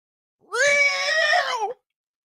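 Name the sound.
voice imitating a feral cat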